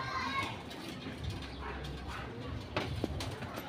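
Racing pigeons coo softly near a loft during a day-bird race arrival, low murmuring calls mixed with rustling, a few light knocks and background voices.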